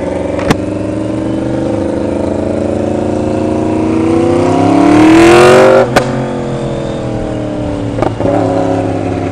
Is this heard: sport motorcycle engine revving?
yes